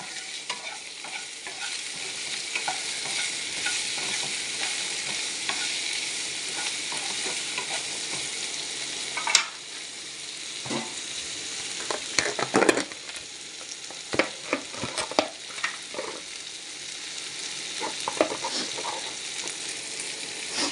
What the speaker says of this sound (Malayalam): വെണ്ടയ്ക്ക് ഇട്ട് കഴിഞ്ഞ് അടുത്തതായിട്ട് നമുക്ക് ഇതിനാവശ്യത്തിനായ ഉപ്പിട്ട് കൊടുക്കാം ഇനി ഒന്ന് മിക്സ് ചെയ്ത് കൊടുക്കാം